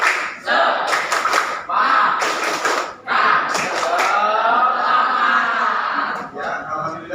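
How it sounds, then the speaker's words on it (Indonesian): Junior high school students on the student council in Jakarta doing a rhythmic spirit clap: loud bursts of patterned clapping in unison, alternating with the group chanting together. "Sekali lagi, tepuk semangat."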